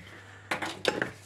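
Spoons that came with a new multicooker are handled during unboxing, giving a few brief, close clinks and knocks, about four quick contacts within a second, with no talking.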